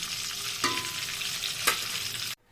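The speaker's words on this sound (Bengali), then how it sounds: "দুইটা এলাচ চার পাঁচটা লবঙ্গ দুইটা দারুচিনি আর সাতটা এই সবচেয়ে গোলমরিচ ওগুলো ভালোভাবে ভেজে নেব" Cardamom, cloves, cinnamon sticks and black peppercorns fry in hot oil with a steady close sizzle, broken by two brief stirring scrapes, and then the sound cuts off abruptly.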